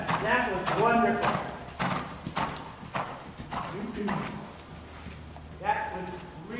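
A horse cantering in an arena at a riding clinic in January, with rhythmic hoofbeats and an occasional snort, while an instructor talks over them.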